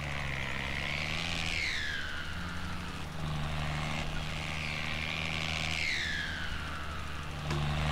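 A New Holland 3630 tractor engine in Farming Simulator 19 drones steadily, its revs rising and dropping in two clear swells as the clutch is worked, with no pauses.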